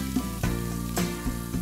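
Garlic added to hot oil already holding asafoetida and cumin gives a loud, steady sizzle and crackle with a few sharper pops, close and continuous throughout.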